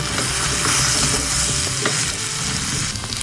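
Onion, green chili and curry leaves fry in a pan for a Kerala ginger curry, a steady loud sizzle with stirring scrapes running throughout, close and unbroken with no voices.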